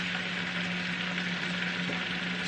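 Beef and broccoli sauce sizzles steadily in a hot pan, a continuous close frying hiss with a faint low hum underneath, no talking.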